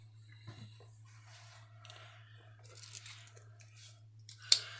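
Quiet, close snips and small cutting sounds from the little scissors of a Victorinox Evowood 17 pocket knife, scattered over a few seconds with a sharper snip near the end, over low hum.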